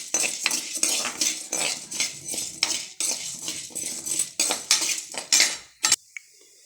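A spoon or spatula scrapes and clinks rhythmically against a metal pan as dry spices for bisibelebath powder are stirred while frying, a close, continuous scraping ending with a sharp knock.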